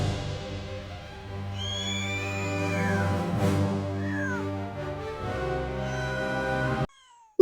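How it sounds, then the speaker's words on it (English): A kitten crying with a run of high, wavering meows, some rising and falling, over a low steady hum, ending in a sudden cutoff and a brief loud burst. "someone is crying. Wait, that sounds like a kitten."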